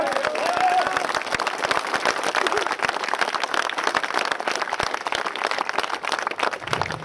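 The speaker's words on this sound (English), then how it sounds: "So I think another round of applause is in due." A crowd at an outdoor street rally in Rotherham breaks into sustained applause, a thick, steady patter of many hands with cheering and voices blended underneath, continuing without a break.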